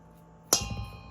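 A metal whisk strikes a metal bowl with a single sharp clang that rings briefly, close and fairly loud, then fades out.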